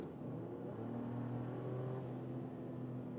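Performance SUV, a Mercedes-AMG GLC 43 or BMW X3 M50, accelerating with its engine sound enhancement switched off: a subdued, steady low engine hum that rises slightly in pitch, heard from inside the cabin.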